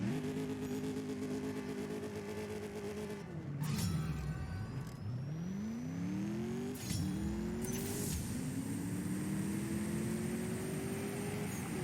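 Mercedes-AMG S 63 Coupe engine in the CSR2 racing game revving on a dyno, pitch climbing steadily through the gears with sharp drops and renewed rises at each shift, loud and continuous with no talk.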